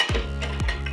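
Batter for a blueberry clafoutis is stirred in a cast iron pan, giving a close, steady scraping and clinking of utensil against metal, with two brief sharp knocks near the start and middle of the short stretch.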